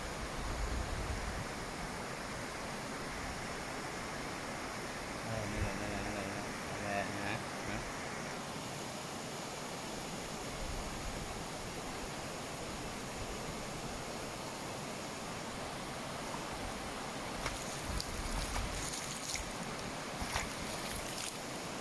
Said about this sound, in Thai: เป็นน้ำตกลำธารเล็กๆที่ไหลผ่านมาแล้วก็น้ำใสมากน้ำสะอาดมาก